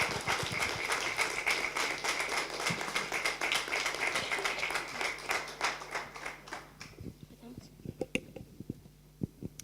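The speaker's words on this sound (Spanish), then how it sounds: "Un aplauso para ellos" An audience at a community gathering breaks into applause, a dense burst of clapping that thins into scattered claps after several seconds, with murmured voices underneath.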